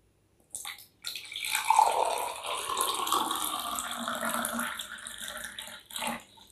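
Water poured steadily into a glass, a close, continuous splashing gush lasting several seconds with a brief pause near the start and a short final trickle.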